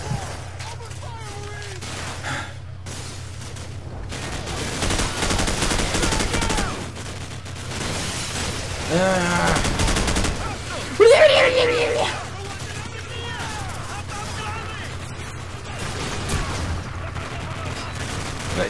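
Gunfire in the video game Call of Duty: Modern Warfare, bursts of automatic shots and distant firefights rattling in and out, with a player talking over the action and a low steady background hum.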